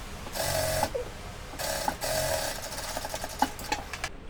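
Sewing machine stitching the hem of a cloth dish towel, close and clear, in several short bursts of rapid needle clatter separated by brief pauses.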